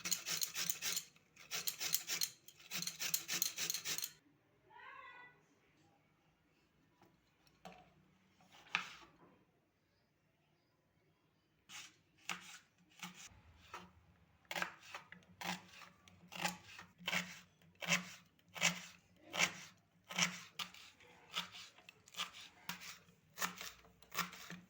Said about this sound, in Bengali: তো গাজরটা আমি এইভাবে ঘষে নেব গ্রেটারের সাহায্যে।